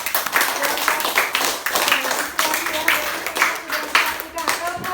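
Elementary schoolchildren clap together in a classroom at SD Negeri 4 Keramas, a lively burst of rapid, uneven hand claps that runs steadily throughout, with voices talking over it.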